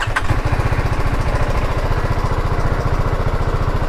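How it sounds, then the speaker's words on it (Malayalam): A TVS Apache RR 310 motorcycle idles at close range, its exhaust giving a steady, rapid low thump that holds evenly throughout with no throttle blips. "ഇതാണ് ഇനിഷ്യൽ എക്സോസ്റ്റ് നോട്ട് വരുന്നത്."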